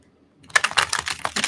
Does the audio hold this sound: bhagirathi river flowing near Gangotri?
no